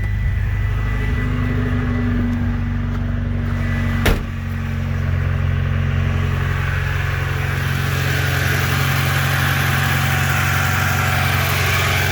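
A Mitsubishi Starion engine with new fuel injectors runs with a steady low idle hum, and a sharp click partway through shifts it into a rougher, brighter running tone that continues to the end.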